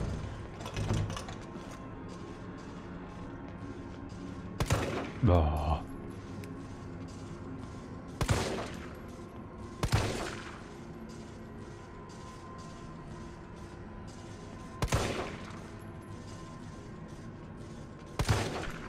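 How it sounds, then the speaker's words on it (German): Gunfire in Resident Evil 3 Remake: about six separate shots spaced several seconds apart, each a sharp, loud crack with a short echoing tail, over a quiet ambient background. "ich schieße jetzt erstmal nur zweimal an, damit ich mit dem dritten Schuss sozusagen die flach legen kann"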